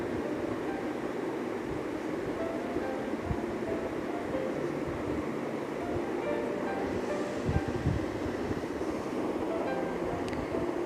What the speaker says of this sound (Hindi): पाया मसाला ऐड कर दिया मैंने, अब मैं इसको भूनूंगी ताकि मसाले का कच्चापन ख़त्म हो जाए।